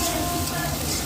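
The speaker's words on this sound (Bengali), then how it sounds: "পেঁয়াজ কুচি, তারপর দেবো লঙ্কা, কাঁচা লঙ্কা দিয়ে আমরা নাড়াবো, ভেজে নেবো" Chopped onion and green chili fry in a pan while being stirred, giving a steady, close, hissing sizzle with no letup across the short moment.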